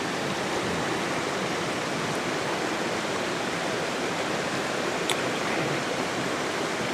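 Close, steady rushing of a river flowing through a canyon at night, a constant full wash of water noise with no voices.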